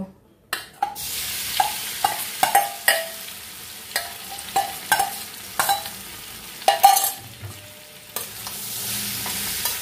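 Young jackfruit pieces fry in a little oil in a wok, with a constant crackling sizzle and regular scraping strokes of a spatula stirring them every half second or so, close and fairly loud.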